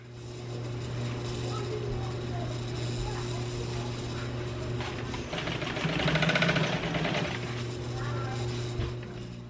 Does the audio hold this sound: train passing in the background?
no